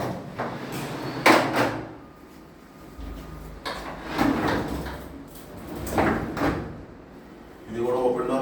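Aluminium kitchen cupboard doors on sliding runners, rolled open and shut several times with scraping rumbles and soft knocks, close by, with a person talking between the movements.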